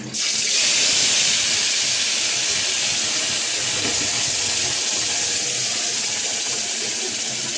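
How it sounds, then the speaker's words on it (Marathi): Ground green chilli paste dropped into hot oil for a mutton curry, giving a loud, steady, broad sizzling hiss that starts abruptly and holds evenly throughout, with no pauses. "आपण हे वाटलेलं वाटण ह्याच्यात टाकूया तेलामध्ये"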